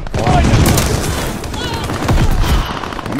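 Rapid automatic gunfire in Call of Duty Vanguard team deathmatch on Desert Siege crackles in loud repeated bursts, with players talking over the shooting.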